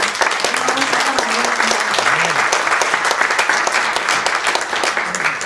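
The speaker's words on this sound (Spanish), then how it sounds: "Un aplauso para Papá Dios." Loud, continuous clapping from a large church congregation, with voices calling out faintly underneath.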